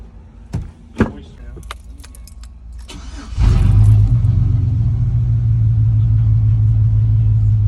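A few close clicks and a key jingle, then a car engine with a sensor disconnected during MAF/MAP testing cranks briefly and catches, settling into a steady idling rumble.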